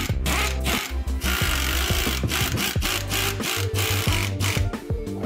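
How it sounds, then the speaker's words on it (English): A power tool runs down 5/16 and 1/4 inch bolts on a TH350/TH400 transmission for a '67 Pontiac GTO, whirring loudly and close in repeated bursts with short pauses between. "We're gonna run these bolts down."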